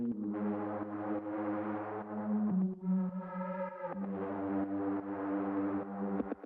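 A Reese bass synth patch, heavily chorused, EQ'd bright and fed through a slap delay, plays sustained buzzy tones with a shifting pitch in the middle, thick and slightly messy, with no talking.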